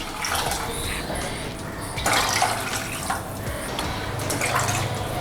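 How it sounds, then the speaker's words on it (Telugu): Water is poured into soaked tamarind in a pot while making kandi podi rasam, giving a continuous close splashing and trickling sound of moderate loudness, without any speech. "ఈ పులుపుకు తగ్గట్టు వాటర్ పోసుకోవాలి"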